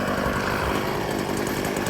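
A gas string trimmer edges a lawn, its small engine giving a steady, close buzzing whine that holds at full throttle throughout with no talking.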